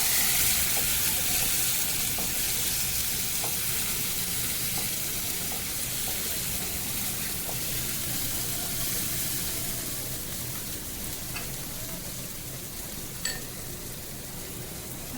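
Close, continuous sizzle of onions and tomato frying for a prawn curry, with occasional soft clicks of a spoon stirring the pan, steady and fairly loud, easing slightly toward the end, no talking.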